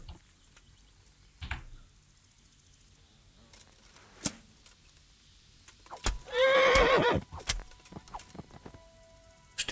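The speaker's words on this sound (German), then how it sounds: "Steht das Pferd hier schon wieder?" Horse in the medieval video game Kingdom Come Deliverance gives one loud whinny in the middle, amid scattered hoof clops and ticks over a quiet game ambience.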